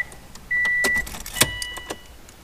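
Subaru car being switched off with the ignition key: a brief steady electronic beep, then soft clicks and mechanical clunks of the key turning, up close in a quiet cabin.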